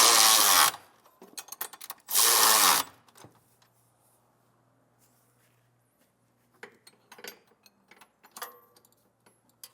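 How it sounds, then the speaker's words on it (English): A 3/4-inch socket and wrench snugging down bolts on an EcoHitch hidden Class III trailer hitch on a 2023 Kia: two loud bursts of rapid ratcheting early on, then quiet and a few scattered metallic clicks and taps. "For our 1/2-inch hardware, we're going to be using a 3/4-inch socket and wrench. And I'm going to get these snug down"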